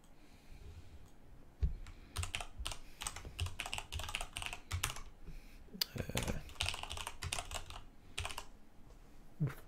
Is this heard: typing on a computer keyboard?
yes